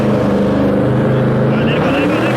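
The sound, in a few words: remote control car doing a burnout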